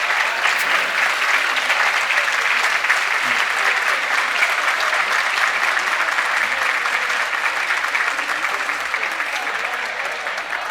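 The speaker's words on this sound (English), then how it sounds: "I'd like to give a round of applause to the people who stand and make this museum what it is." A long, steady round of applause fills the room at a polo Hall of Fame induction ceremony as museum board members stand. The clapping is dense and even, with a few voices mixed in, and tapers slightly at the end.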